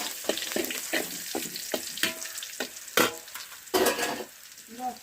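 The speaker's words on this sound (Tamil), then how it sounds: "பூண்டு கருவேப்பிலை போடுறேன்." Garlic and curry leaves hitting hot oil in a pan during village-style cooking, bursts of crackling sizzle with stirring scrapes in an uneven rhythm, close and alone.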